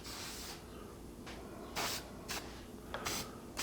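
Spray lacquer is dusted onto a turned wooden bowl in short, close hissing bursts, about five quick sprays separated by pauses, each a sharp airy hiss from the aerosol can.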